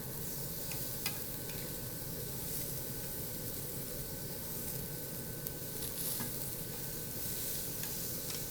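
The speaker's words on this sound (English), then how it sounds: "I'm going to turn my veggies over a little bit." Vegetables being turned over and seared in a hot pan, a dense, even sizzle close up throughout with occasional faint clicks of the utensil, no voices.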